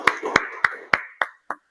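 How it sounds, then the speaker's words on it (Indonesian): A few people clapping in a classroom, six sharp separate claps in an uneven rhythm, close and fairly loud, fading off at the end with no talk over them. "tepuk tangan lagi ya untuk Mbak Lia"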